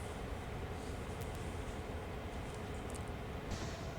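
A CSX GP-38 diesel locomotive in the Train Sim World 2 game idles on Sand Patch Grade during yard switching, a steady low rumble with a few faint metallic clanks over it.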